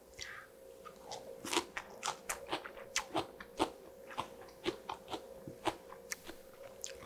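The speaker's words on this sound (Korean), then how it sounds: "일단 한번 상추만 맛을 보도록 할게요" Crisp, irregular crunching bites and chewing of freshly made lettuce kimchi, close and alone, with steady mouth-level crunches spread over several seconds.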